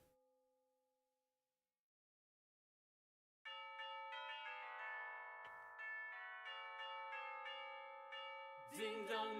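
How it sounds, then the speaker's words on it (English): Bells from a Go game stream ring out after a few seconds of near silence, a sustained, bright chime of many overlapping tones, loud and steady, ending in a brief burst of noise. "Bells are ringing."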